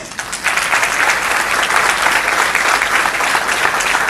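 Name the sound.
audience applause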